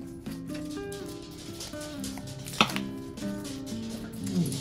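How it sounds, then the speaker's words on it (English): Kitchen knife trimming the root ends off two scallions on a cutting board, a run of close, crisp chopping taps with a single sharper chop standing out midway. "So I'm going to start with cutting up these two scallions"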